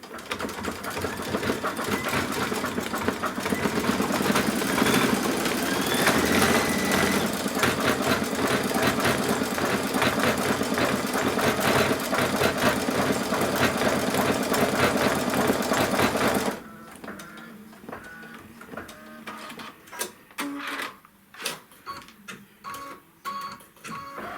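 A sewing machine stitches down pieces of a quilt block in a steady, loud mechanical whir that runs unbroken for about sixteen seconds, then stops and gives way to quieter handling noises and clicks.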